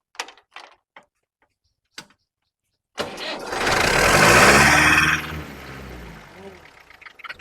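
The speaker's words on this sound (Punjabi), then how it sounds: "ਇਹਨੂੰ ਸਟਾਰਟ ਕਰਕੇ ਦਿਖਾਓ ਟਰੈਕਟਰ ਨੂੰ" A few faint clicks, then a tractor engine cranks and catches, roaring up loudly before settling into a steady, lower idle.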